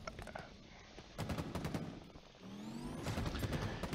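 Rapid automatic gunfire from the Halo Infinite video game, dense bursts of shots in close succession, loud and continuous across the clip with no talk.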